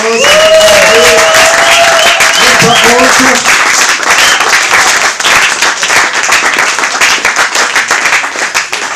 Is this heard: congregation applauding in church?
yes